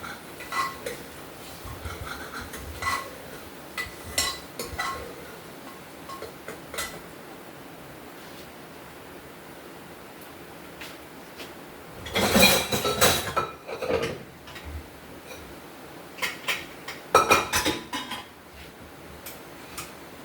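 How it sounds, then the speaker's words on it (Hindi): Dishes, pots and utensils clink and clatter as they are put away in a home kitchen, scattered knocks and chinks with louder bursts of rattling, close by and with no talk. "ये साथ साथ बर्तन भी लगा देती हूँ।"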